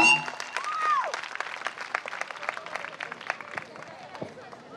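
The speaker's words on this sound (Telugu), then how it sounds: "గట్టిగా చప్పట్లు కొడదాం" An audience at a gospel music festival in Mahabubnagar claps in a dense burst of applause, loud at first and thinning toward the end, with a voice briefly rising over it.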